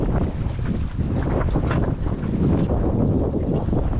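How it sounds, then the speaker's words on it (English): Waves and spray wash against a sailing boat beating upwind in a force 4 breeze with force 5 gusts, heard as a continuous loud rush of water and wind buffeting the microphone, with no voices. "Waves are building, so you can see they are getting a bit bigger"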